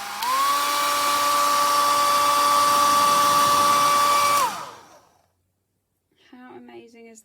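A hair dryer blows with a loud, steady whine for several seconds, then cuts off and winds down; a voice briefly speaks afterward.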